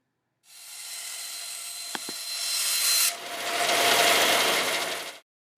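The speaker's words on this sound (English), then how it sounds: "Switch on the bandsaw. Roughly trim the unwanted edges of your part." A bandsaw whines steadily as it roughly trims plastic edges, with a couple of sharp clicks partway through and a rougher grinding pass before it stops.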